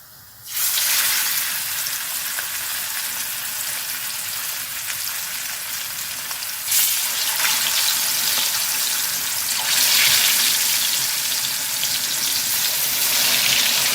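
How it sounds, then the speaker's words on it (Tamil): Marinated fish pieces, seasoned with chilli powder, salt and tamarind, fry in hot oil with a loud, steady hiss. The sizzle jumps louder twice as more pieces drop into the pan, with no talking. "இந்த மீன் எடுத்து ஒன்று ஒன்றா போட்டுக்கலாம்"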